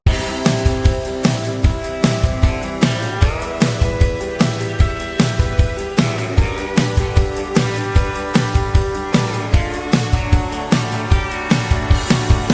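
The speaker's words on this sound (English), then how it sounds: "And those together with the acoustic guitar and drums sound like this." Full pop country band groove: electric guitars and strummed acoustic guitar over a steady, punchy drum beat with regular kick hits, loud and continuous, no voices.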